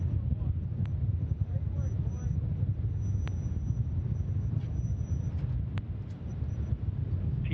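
Antares first-stage engines burn steadily during a Cygnus cargo launch, a continuous low rumbling roar that holds level and distant throughout, with faint crackles on top.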